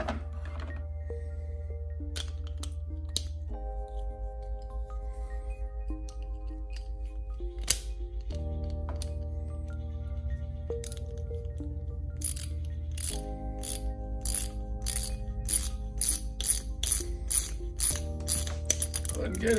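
A fitting is tightened snug on a DIY hand gold dredge, giving repeated metallic ratcheting clicks in bursts, close and fairly crisp, growing denser toward the end.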